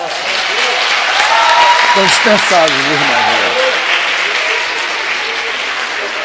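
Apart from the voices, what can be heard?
church congregation applauding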